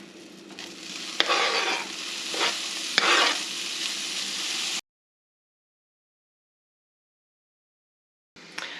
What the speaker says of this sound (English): while that bacon is frying up